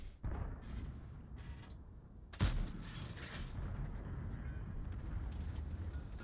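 A single sharp, booming tank cannon shot from an E-50M cracks out amid a steady rumbling tank video game soundscape, followed by continued low engine drone.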